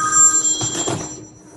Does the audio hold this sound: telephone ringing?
yes